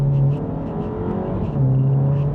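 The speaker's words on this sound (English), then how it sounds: "If we accelerate from low speed in first gear," A Mini John Cooper Works pulling away from low speed in first gear, its engine note rising as a steady loud drone heard from inside the car, with no voices.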